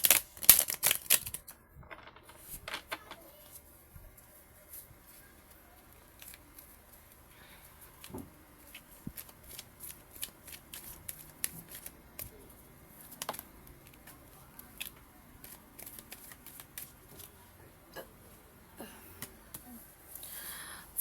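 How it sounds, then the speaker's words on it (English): A deck of tarot cards shuffled by hand beside a running fan, soft quick riffles and taps coming in irregular bursts, fairly quiet and close, with little else heard. "My shuffles today are on fleek. I love the sound of it."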